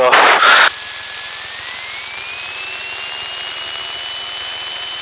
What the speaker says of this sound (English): So everything looking good for takeoff now.